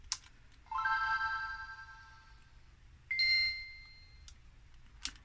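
Game Boy Advance startup chime ringing from the handheld console, a bright two-part electronic ding with a ringing tail, faint and close, surrounded by small clicks of handling the device and no talking.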